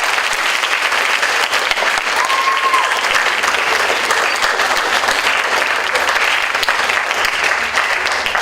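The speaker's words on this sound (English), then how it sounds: "Give a round of applause." Sustained audience applause fills a room after students speak at a middle school speech contest, a steady dense wash of clapping hands with no break, and no one talking over it.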